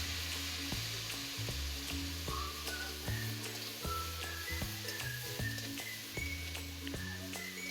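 Fish curry sizzles steadily in a pan over a clay stove, a constant close frying hiss with rhythmic low scraping strokes of stirring running throughout, no talk.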